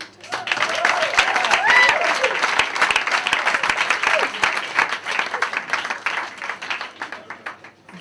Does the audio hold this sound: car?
no